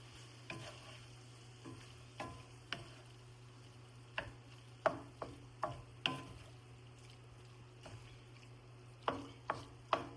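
A spoon stirs cooled cooked rice into a stuffed bell pepper filling in a pan, making quiet, repeated scraping strokes at an uneven pace over a low, steady hum.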